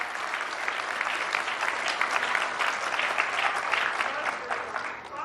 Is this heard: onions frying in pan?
no